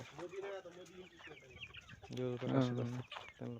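Several chickens cluck nearby, overlapping and irregular, with louder, drawn-out calls toward the end.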